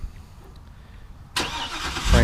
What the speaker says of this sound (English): This one also has the remote engine start, which is a real neat feature.